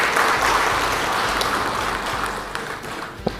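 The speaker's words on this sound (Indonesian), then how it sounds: "Tepuk tangan dulu lah." Audience applause at an Indonesian government speech on civil servant pay, a dense, even wash of many hands clapping that holds steady and then thins, with a few louder single claps near the end.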